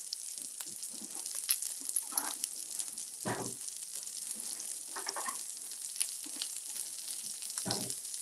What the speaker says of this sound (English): I'm going to turn them over here and put my onions on